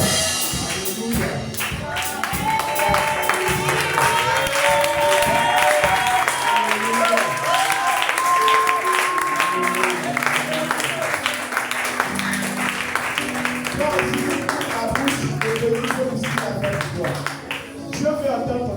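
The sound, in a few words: church congregation applauding and cheering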